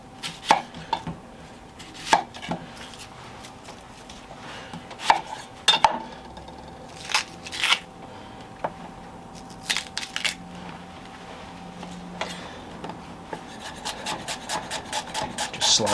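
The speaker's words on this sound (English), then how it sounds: "just slicing it nice and thin" An onion is sliced thinly with a knife, each stroke landing as a crisp tap on the cutting board, slow and uneven at first, then quickening into a rapid, steady run near the end, with no speech.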